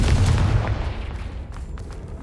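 A heavy booming blast from the Confringo explosive spell in Hogwarts Legacy, loud and close at the start, then rumbling and fading away over a couple of seconds.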